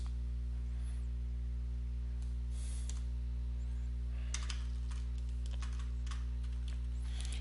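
Someone types on a computer keyboard in short bursts of quick key taps, moderately close, over a steady low mains hum, with no voices.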